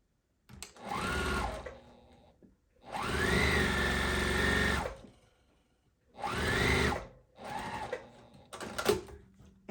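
A sewing machine stitches quilt blocks in black fabric, its motor buzzing in four sustained runs of one to two seconds each, separated by silent pauses, close and steady.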